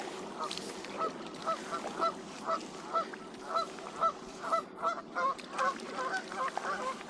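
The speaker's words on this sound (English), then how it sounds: "Actually, there's two Canada geese." Two Canada geese honk repeatedly in a steady series of loud, nasal calls over a constant low drone, heard from a kayak on an urban creek.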